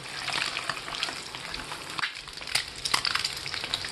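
Eggs fry in hot oil with a busy, crackling sizzle full of small pops and spatters, heard up close.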